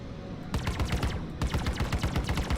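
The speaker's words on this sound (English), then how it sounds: "So you got the turret firing as well" A Cutlass Black ship turret in Star Citizen fires rapid automatic bursts, a steady rattling stream of sharp shots that breaks off briefly, then resumes, loud and close over a low background hum.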